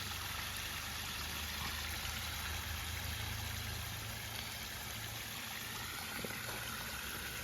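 Water from a pondless front-door waterfall flows steadily over two stone spillways, a constant broadband rush with a low hum running beneath, nearby and unbroken with no talking.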